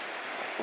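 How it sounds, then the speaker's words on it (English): Wind-driven waves roll into a cove along a windy Scottish shore in winter, a steady broad rush of surf with wind buffeting the microphone, swelling slightly louder near the end. "Look at those waves just coming in on the wind."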